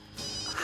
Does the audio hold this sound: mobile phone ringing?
yes